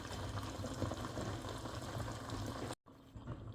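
Steady splashing rush of water pouring into a container, close and continuous, cutting off abruptly near the end.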